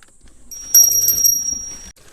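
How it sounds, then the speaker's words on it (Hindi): A small brass puja hand bell rings in a brief, bright, shimmering burst of about a second, close and fairly loud, then stops. "महाराज जी आपकी सेवा में एक घंटी है"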